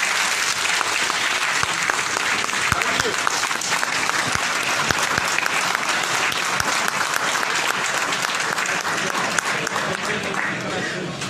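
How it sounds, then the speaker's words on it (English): A conference audience of radiographers in Hyderabad gives the minister sustained, dense applause that fills the whole stretch, loud and close, with a brief spoken thanks heard over the clapping. "give a big clap to our minister"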